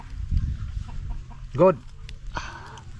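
Chickens on a rural Filipino property cluck near an outdoor grill area, one bird giving a short loud burst mid-clip while someone speaks briefly and low background noise continues.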